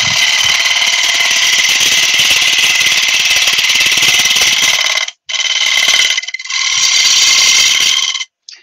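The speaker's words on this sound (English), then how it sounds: "Using a slightly larger bowl gouge, it's just a bit more sturdy." A wood lathe spins while a bowl gouge cuts into the workpiece, giving a loud, bright, continuous shrieking whine that breaks off briefly twice near the end.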